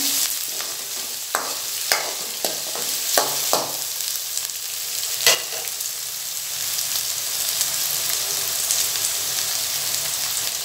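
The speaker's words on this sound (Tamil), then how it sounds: "கறிவேப்பிலையும் சேர்த்துக்கிறேன். கொஞ்சம் நல்லா வெங்காயம் வதங்கட்டும்." Onions, garlic and curry leaves sauté in an oil-filled pan, a continuous crackling sizzle broken by several sharp scrapes and clinks of a spoon stirring, close and clear with no voices.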